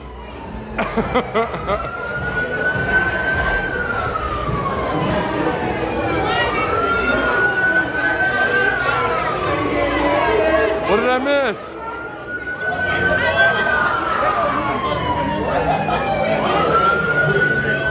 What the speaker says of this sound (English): Is there a fire truck coming, an ambulance?